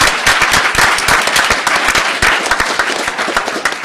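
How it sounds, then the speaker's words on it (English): An audience applauds at a cloud computing workshop, steady dense clapping from many hands filling the room, loud and continuous with no talking over it. "So a special round of applause for that."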